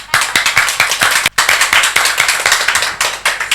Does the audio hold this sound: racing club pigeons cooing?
no